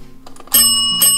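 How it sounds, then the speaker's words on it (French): A small service bell in an abandoned restaurant kitchen is struck twice in quick succession, each ding bright, close and ringing on briefly, heard on its own. "Regardez, on a même la petite sonnette."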